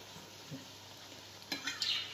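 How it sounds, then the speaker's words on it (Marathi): Sweets deep-frying in hot oil until golden, a steady soft sizzle with a few louder bubbling bursts and faint stirring near the end, no talking. "अशी आपल्याला गोल्डन तळून घ्यायची आहे"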